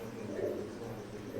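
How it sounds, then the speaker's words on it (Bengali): Soft, low cooing from a pair of KTM bloodline Teddy pigeons, a brief murmuring coo heard close and faint over quiet background. "স্ক্রিনে এখন যে কবুতর জোড়া দেখতে পাচ্ছেন কেটিএম ব্লাড লাইনের এক জোড়া কবুতর"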